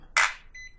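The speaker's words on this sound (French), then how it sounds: "Ça bip." A radio transmitter for an HBX 3100A miniature RC car gives a short electronic beep during neutral calibration, a single bright chirp followed by a fainter tone, close and alone.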